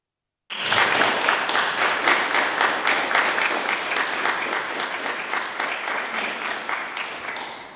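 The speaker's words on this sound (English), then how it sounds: "That's a clap for you." An audience applauds after a presentation, a burst of many hands clapping that starts suddenly, holds steady, and tapers slightly toward the end, heard indoors with no speech.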